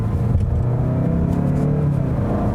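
Cadillac XT4 with its high-torque engine accelerating, a steady low rumble and rising drone heard from inside the cabin, continuous and moderately loud.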